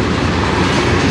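A CN freight train passes close on the Strathroy Subdivision with a loud, steady rumble and continuous clickety-clack of wheels on rail joints, and no voices over it.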